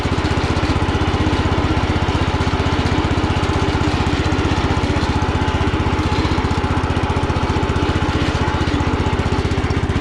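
An antique Sears tractor engine runs steadily while driving in third gear, a loud, even, rapid thumping putter close by that continues without a break and with no talk.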